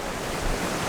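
Surf breaking against a rocky shoreline at Baler rolls on as a steady, loud wash of waves with some wind rumbling across the microphone, and nobody speaks.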